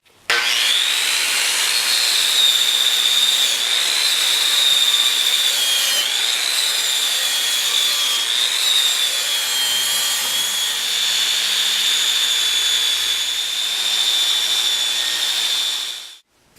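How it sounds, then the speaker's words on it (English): A 7-inch Makita grinder scouring rust off metal parts, a continuous high-pitched whine with a gritty rasp that wavers slightly in pitch as it bears down, close and loud for about sixteen seconds before cutting off. "off my 7-inch Makita and just clean all the rust off, and probably just grind these down flat"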